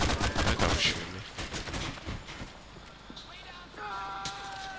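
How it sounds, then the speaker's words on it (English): Gunfire in GTA 4: The Ballad of Gay Tony during a gang drug war: a burst of loud, rapid shots at the start, then scattered quieter shots and street noise. "That guy was shooting me."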